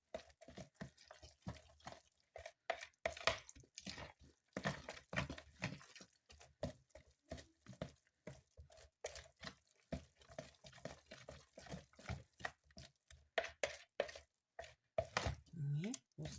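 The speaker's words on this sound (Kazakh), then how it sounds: "Араластырамыз." A spoon stirs a flour-and-milk batter for cutlets in a bowl, making quick, faint, rhythmic scraping and clicking strokes that go on without pause.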